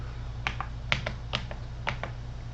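Several separate clicks from a computer keyboard spacebar being pressed, irregularly spaced, close and fairly faint over a low steady hum.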